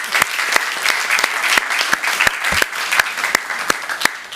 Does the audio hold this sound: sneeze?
no